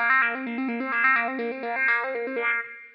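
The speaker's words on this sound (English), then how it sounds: "Next preset, Expression Wah." An electric guitar through the Expression Wah preset of a Harley Benton DNAfx GiT multi-effect processor plays a quick repeating melodic line, the tone opening and closing rhythmically, with slight distortion and chorus.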